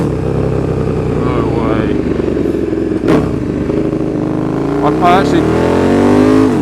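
A KTM 1290 Super Duke R with a loud aftermarket exhaust, its engine droning and revving in a steady, heavy rumble with rising pitch sweeps, while someone speaks briefly over it.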